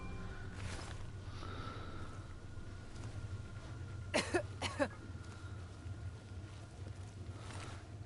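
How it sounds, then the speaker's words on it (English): Two short, sharp coughs close together in the game Skyrim, faintly heard over steady low wind-like background noise. "Don't even start coughing."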